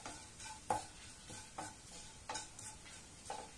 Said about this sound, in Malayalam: കുരുമുളക് പൊടി ഇട്ട് കഴിയുമ്പം ഒരല്പനേരം ഒന്ന് നമ്മൾ ഒന്ന് ഇളക്കി കൊടുക്കണം